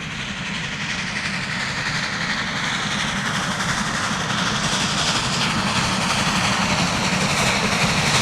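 Triple-headed steam train with vintage rolling stock and an Ae 6/6 electric locomotive rolling past on an inclined curve near Rotkreuz on the Gotthard line, a steady loud rumble and rail clatter sustained throughout.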